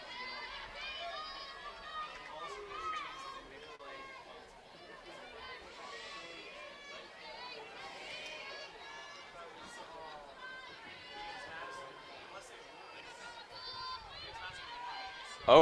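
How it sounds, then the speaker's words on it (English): Crowd at an NCAA softball tournament game between Michigan and Saint Francis (PA) reacts to a pitch, a steady murmur of many voices with cheers and chatter rising and falling throughout, a sharp loud burst at the very end. "You could probably tell from the crowd noise that was a good pitch"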